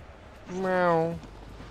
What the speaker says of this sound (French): Vous avez entendu, il a fait miaou.